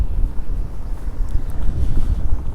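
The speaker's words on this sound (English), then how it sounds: "It's a bit windy now." Steady wind buffets the microphone outdoors on a Midtown Toronto street, a continuous low rumbling roar that fills the whole clip without any talking.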